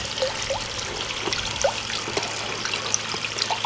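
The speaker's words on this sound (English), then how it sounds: "we see water dripping off of all of the roots" Water trickles and drips from the roots of red cabbage plants lifted out of a Kratky hydroponic container, a steady soft patter of close, irregular droplets with no talking.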